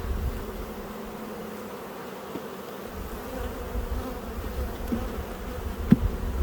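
Honeybees hum steadily around an opened hive during a move from nucs into ten-frame boxes, a continuous close buzz with a few faint knocks and no voices.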